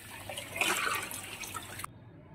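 Water runs from a kitchen tap in a Delhi home on a winter day, a close, steady rushing stream that stops abruptly near the end.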